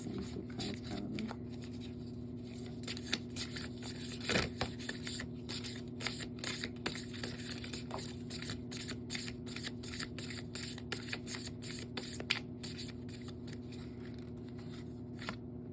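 Tarot cards being shuffled, with a long run of quick, crisp riffling snaps and flicks over a steady low hum, close and fairly quiet.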